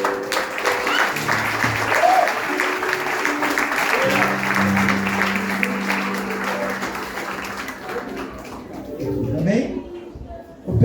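Sustained applause from a church congregation, steady clapping with voices mixed in and faint music underneath, fading toward the end.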